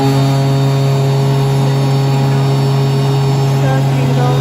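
A six-head wood moulder machine hums loudly and steadily with a strong drone, its spindles running up and someone talking over the noise.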